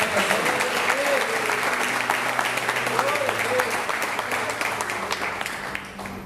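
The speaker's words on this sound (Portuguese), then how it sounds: "E se quiser aplaudir a Ele, a glória no nome dele" A church congregation at a Sunday service claps in praise, a steady wash of applause under some voices and faint music, fading toward the end.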